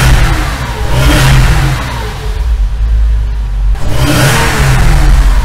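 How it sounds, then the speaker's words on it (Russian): A Porsche Boxster engine revs hard twice up close, each surge rising and falling with a quieter dip between them, loud and clear with no talking over it. "Ну да, конечно, приятно, мотор работает прям."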